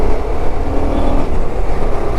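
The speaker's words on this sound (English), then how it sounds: "Smooth engine." A KTM 250 Adventure motorcycle engine runs steadily on a city night commute, a loud continuous hum with traffic noise and no talk.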